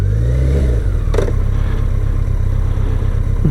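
BMW K1100LT motorcycle engine revving through a fumbled gear change, a loud close drone that dips and climbs with a brief mechanical clunk partway through, steady exhaust rumble throughout.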